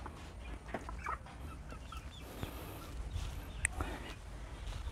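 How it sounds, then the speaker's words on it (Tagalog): Hens and roosters, crossbreeds of wild and local fowl in a backyard coop in Vanuatu, cluck faintly and sporadically over low background noise, with occasional soft calls. "Lahat po wild crossbreed na po ng wild fowl at saka local fowl po nila dito"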